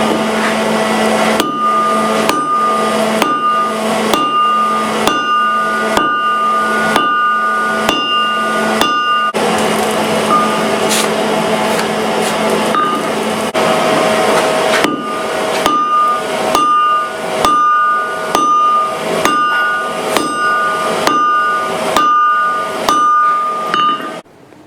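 Steel struck hard on an anvil during blacksmithing in a winter forge session, ringing hammer blows in a fast regular rhythm with short breaks between bursts, loud and close, with a bright metallic ring hanging over each strike.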